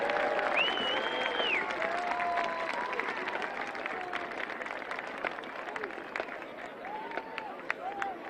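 A crowd applauds the Londonderry High School Marching Band at a high school football championship game, dense clapping from a large audience, while a voice speaks over it through a loudspeaker.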